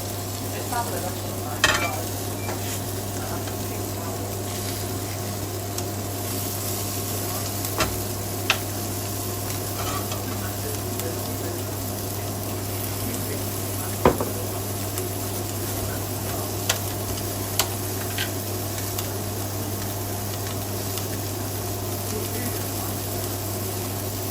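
Fish sears in a hot pan with a low, steady sizzle under a constant hum, with scattered faint ticks and pops.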